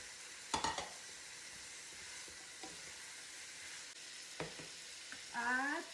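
Green beans frying in a pan for ginisang green beans, a steady soft sizzle throughout with a few clanks of a utensil against the pan and a brief stirring scrape near the end.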